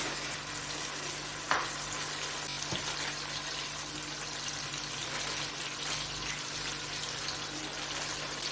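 Beef kabab masala spices frying in a pan, a steady broadband sizzle with a couple of brief clinks from stirring near the start.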